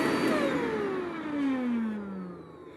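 A Shark Lift-Away vacuum cleaner motor, clogged with dust, whines loudly, its pitch sliding steadily downward as it winds down after being switched off, with a rushing airflow hiss.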